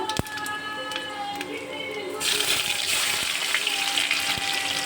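Chopped onion drops into hot oil with tempering spices and breaks into a loud, continuous sizzle partway through, after quieter faint crackling from the spices.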